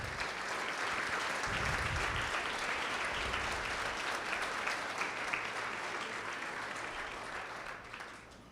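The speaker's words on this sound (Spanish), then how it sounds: "Dale un fuerte aplauso a Jesús." A church congregation breaks into loud, sustained applause that fills the room, holding steady for several seconds before tapering off.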